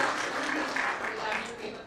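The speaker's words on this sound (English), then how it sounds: "So a big round of applause for them" Audience applause for a team's work at an academic AI conference, a fairly even, moderate wash of clapping with a voice faintly under it.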